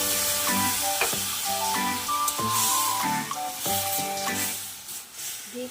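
Spice paste for a Bengali hilsa fish curry fries and sizzles in a pan, steady hiss punctuated by repeated spatula clinks and stirring knocks, close up, fading slightly at the end.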